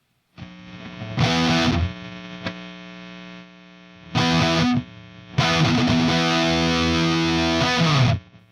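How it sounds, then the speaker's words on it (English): Heavily distorted electric guitar through a NuX Mighty Plug headphone amp plays three bursts of high-gain lead, two short stabs separated by silence, then a longer sustained phrase. "let's go set up like a heavy high gain lead tone"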